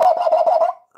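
A quick, pulsed gobbling chicken call sounds close and loud, a rapid burst of about five throaty notes that fades within a second.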